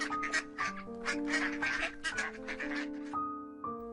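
Cartoon ducks at a village pond quack in a quick, repeated run of nasal calls over a sustained musical backing, fairly close.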